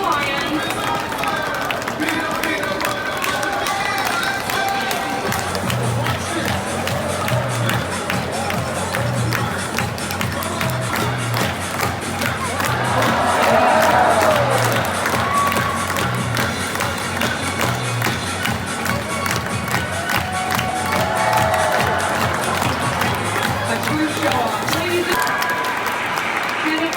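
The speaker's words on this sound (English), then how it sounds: "you guys all need to stomp your feet. I'm watching you. Yeah, clap your hands." Crowd at an indoor sea lion show in a large mall claps, stomps feet and cheers in a steady rhythmic patter, rising to a louder swell midway, with an amplified voice talking over it.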